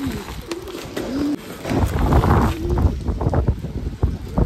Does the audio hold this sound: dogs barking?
no